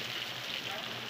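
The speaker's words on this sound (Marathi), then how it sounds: "भरपूर पाऊस आहे बघा." Heavy rain falling steadily in a Konkan village during the monsoon, a dense, even hiss with no voices over it.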